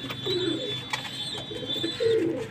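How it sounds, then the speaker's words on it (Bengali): Pigeons shuffle and coo softly nearby, low murmuring calls rising in two short bursts over a steady faint background hum. "পায়রা সব ঘোরাঘুরি করছে"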